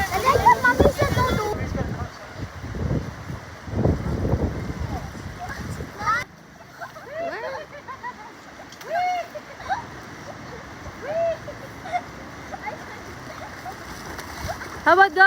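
A shallow stream at a group campsite runs with a steady wash of flowing water and occasional splashes, heard beneath frequent chatter from adults and children nearby.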